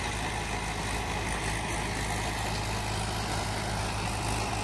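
A tractor engine drones steadily in an open field, a continuous low rumble at constant loudness with a broad noisy wash over it and no break throughout.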